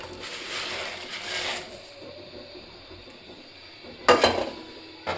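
Sei pitha stirred gently in milk with cardamom and cinnamon in a pot on the stove: soft, faint scraping and swishing, then a sharp metal clink of the utensil against the pot near the end.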